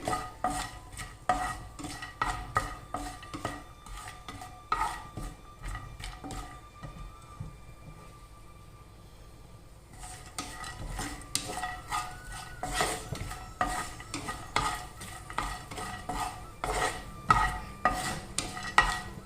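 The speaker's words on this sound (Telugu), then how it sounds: "జీడిపప్పు బాదం పప్పు ఫ్రై అయ్యాక లాస్ట్లో మనం కిస్మిస్ వేసుకుందామండి" Cashews, almonds and raisins frying in a pan are stirred with a utensil, giving steady scraping and clinking against the metal throughout, with a brief quieter stretch in the middle and no talking.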